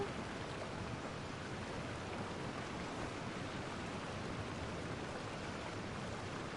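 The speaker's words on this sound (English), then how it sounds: "Oh, is it this waterfall?" A waterfall in Genshin Impact gives off a steady, even rush of falling water, faint and unbroken from start to end with no other sounds.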